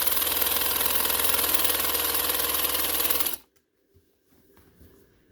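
A sewing machine runs steadily, stitching a straight line along salwar fabric decorated with a border strip. The motor hums loud and even for about three seconds, then stops abruptly, leaving near silence with faint handling.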